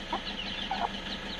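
Soft clucking from young chicks, a couple of short calls against a steady hiss of background noise.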